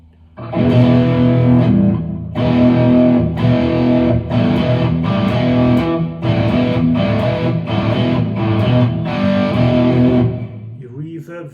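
Electric guitar through an iSET Cube Baby multi-effects pedal set to a Marshall amp model, with crunchy distortion, strummed chords in repeated bursts with short gaps, loud and close, ending in a brief tail.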